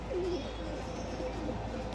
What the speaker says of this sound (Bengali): এটা অরিজিনাল মিরাববালা পায়রা, দাদা ওস্তাদের থেকে নিয়ে এসছে পাঞ্জাব থেকে